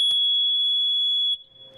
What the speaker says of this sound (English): And you test your smoke detector.